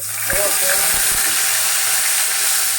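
Black cumin and ground mustard paste sizzle in hot oil in a frying pan, a loud steady hiss with a few dull clunks of a utensil against the pan early on.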